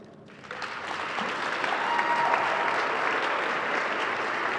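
Steady applause from an audience at a Three Kings Day celebration, swelling quickly after a brief quiet start into a dense, sustained wash of many hands clapping at moderate distance.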